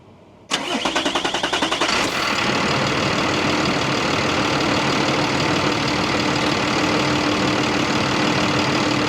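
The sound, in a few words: Mack truck Cummins B 6.7 engine idling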